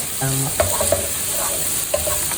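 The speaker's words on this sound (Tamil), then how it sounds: "நல்லா இன்னொரு பாஷையில் சுருள வதங்கணும்" Vegetables for a one-pot pulao sauté in a pot, with a loud steady sizzle under a few scraping stirs and light spoon knocks against the pot, and no talk.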